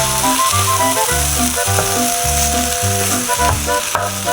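Soya bean gravy simmers in a pan with a steady sizzle and bubbling hiss, running continuously under loud, rhythmic background music.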